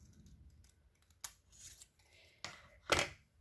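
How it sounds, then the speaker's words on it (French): Scissors snip through a square of paper along the diagonal while making a pop-up card, giving three separate crisp cuts that grow louder, the last one the sharpest, with quiet pauses between them. "On prend notre deuxième carré, on coupe sur la diagonale"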